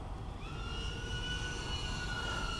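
An iFlight Nazgul Evoque F5 FPV drone racing past at high speed, a steady loud whine with rising tonal pitch over a broad rushing roar, sustained throughout.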